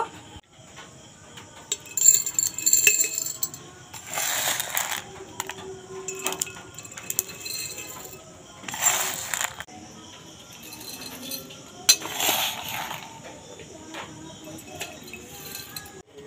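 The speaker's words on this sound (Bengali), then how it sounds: "এখন আমি একটা বয়াম ভরে নেব।" Crisp fried chana dal rattles and clinks into a jar in several separate pours, each a short burst of dry patter against glass, separated by quieter gaps.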